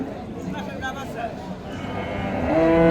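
A large dairy cow at a livestock market gives a drawn-out moo near the end, rising loud and close over crowd chatter and someone speaking.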